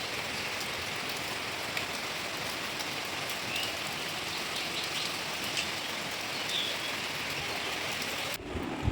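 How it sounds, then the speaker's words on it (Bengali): Heavy rain falling outside during a daytime downpour, a dense even hiss of drops on surfaces continuing throughout at moderate level, with a faint bird note now and then and a short bump at the very end. "দেখো দেখো বৃষ্টি হচ্ছে কিরকম।"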